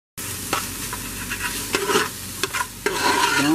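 Onions cooking down in a pot for homemade chili, a soft steady sizzle and bubble close by with a few light clinks and scrapes of a utensil, no voices.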